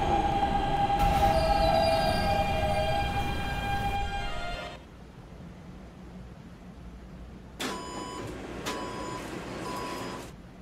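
A New York subway E train rides through the tunnel, a loud rumbling roll with high wheel squeal for the first seconds, then quieter, followed by repeated electronic door chimes and tones near the end.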